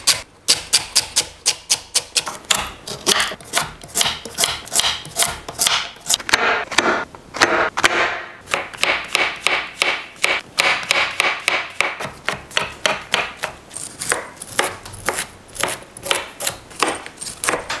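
A knife chops celery, carrots, mushrooms, broccoli and tomatoes on a cutting board in a home kitchen, giving rapid, crisp, close-up taps in quick rhythmic bursts with brief pauses between runs.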